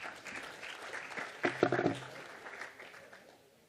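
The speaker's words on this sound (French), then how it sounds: "vous pouvez l'encourager et le soutenir en l'applaudissant quand même" An audience at a talk on sustainable water management in Provence vineyards gives brief, faint applause that swells and fades while a voice speaks over it.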